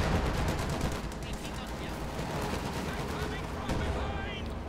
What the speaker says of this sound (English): Sturmpanzer shooting away here